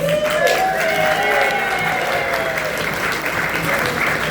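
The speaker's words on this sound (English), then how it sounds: "Big round of applause." Sustained applause from a live audience at a horror spook show stage performance, steady and fairly loud throughout with some cheering mixed in.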